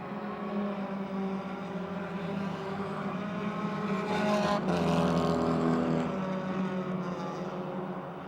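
Race cars roar around Motordrome Speedway, a continuous loud engine drone that swells as cars pass close by mid-clip and then eases, heard from trackside without commentary.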